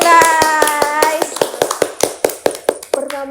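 A small group claps in a steady, rhythmic beat of sharp, close hand claps, roughly a dozen evenly spaced, while people talk over it and a voice may be among them.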